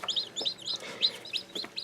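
Newly hatched Ayam Cemani chicks cheep in quick, high repeated peeps, a dozen or so short calls spread evenly across the moment, close and moderately loud over a soft room background.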